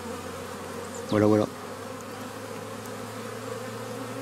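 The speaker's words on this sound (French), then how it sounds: "On les voit qui se reposent sur la planche d'envol avant de rentrer dans la ruche." Honeybees resting on the landing board at a beehive entrance in spring, a steady soft buzzing hum throughout, with a brief spoken word partway through.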